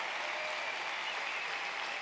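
An indoor audience claps steadily, a dense, even wash of applause for an event organizer and her team, with no pauses or voices standing out.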